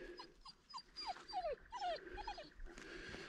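A dog whimpering outdoors among gum trees, a string of close, high, rising and falling whines with soft growly breaths between them, fairly quiet against a faint rustling background.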